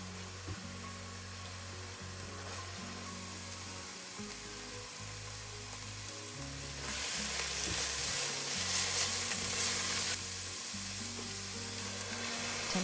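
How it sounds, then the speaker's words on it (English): Serrano ham stirred into a pot of cooking vegetable soup, with a steady sizzle and broad frying hiss running throughout, growing louder midway, plus scraping stirring motions and a low background hum. "Once it's cooked, let's add the Serrano ham and stir."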